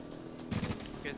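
A short burst of gunfire in The Division, a brief rattle of shots partway through over steady game background noise, with no talking.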